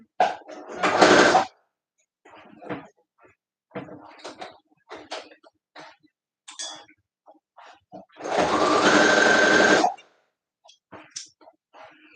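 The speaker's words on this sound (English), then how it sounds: "I'm just going to increase my stitch length and do a basting stitch all the way through and baste it together" A sewing machine runs a long basting stitch in two sustained bursts, one short near the start and a longer one later, with a person talking in the pauses between them.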